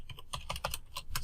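Password being typed on a computer keyboard, a quick run of crisp, close key clicks in an uneven rhythm with no voices.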